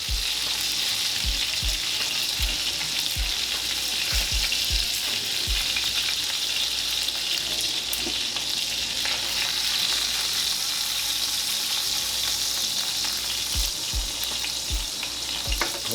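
Hamburger patties fry in a pan, cooking as a second batch, giving a loud, steady crackling sizzle throughout with scattered low pops and no talking.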